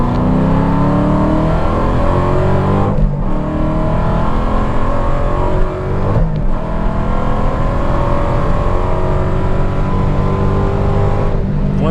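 A Hennessey HPE850 Hellcat accelerates hard, its engine roaring loudly and close with rising revs broken by two brief gear-shift dips.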